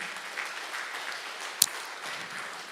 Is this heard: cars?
no